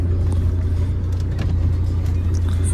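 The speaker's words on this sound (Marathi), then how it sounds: "पुन्हा एकदा ओमकार गाडी वळवतोय." A car being turned around on a rural road, a steady low engine hum close by with a continuous road rumble throughout and no speech.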